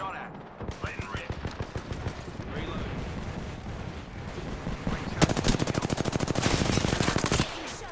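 Rapid automatic gunfire from Apex Legends, a steady train of sharp close shots that swells into a louder, denser burst near the end before cutting off, with faint voices underneath.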